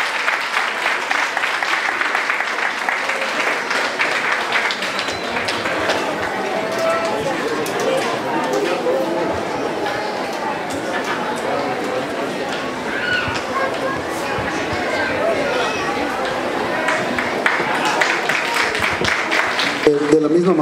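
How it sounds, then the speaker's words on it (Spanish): Audience applause at an award ceremony at the Feria del Gabán in Charapan, Mexico, a steady dense clapping wash lasting the whole stretch, with voices murmuring underneath. "vamos a darles un fuerte aplauso también"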